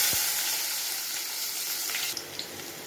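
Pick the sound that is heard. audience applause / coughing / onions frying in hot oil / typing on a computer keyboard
onions frying in hot oil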